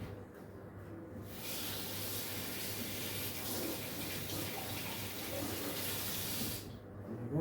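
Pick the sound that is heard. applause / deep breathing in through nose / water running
water running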